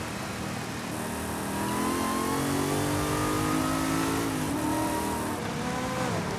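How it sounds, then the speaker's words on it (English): Corvette Z06 supercharged engine in Forza Horizon 5 revving hard during drifting, a continuous loud mid-pitched roar with rising and falling pitch sweeps and a steady whine. "That supercharger sounds amazing, by the way. Nothing beats supercharger noises."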